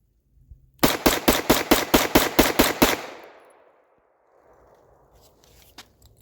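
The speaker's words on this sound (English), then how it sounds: "I'm going to mag dump it and see if there's any kind of jams or anything like that." Ten rounds of 9mm Interceptor ammunition fired in rapid succession, ten sharp evenly spaced loud shots over about two seconds, then a fading echo and faint rustling afterward.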